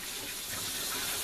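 Hot tap water runs steadily into a sink, rinsing cooked hamburger meat, a continuous full-band gushing stream with no talk over it.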